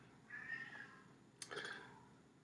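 A cat meows twice in the background, a drawn-out cry followed by a sharper, louder one after a short pause, heard indoors at a modest distance with no talking.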